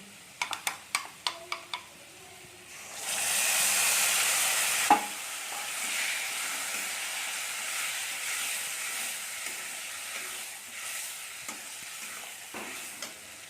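Spice paste hits hot oil over already-fried potatoes for a shol fish curry, setting off a loud, steady frying hiss that follows a few sharp taps and fades into softer sizzling with occasional spoon clinks.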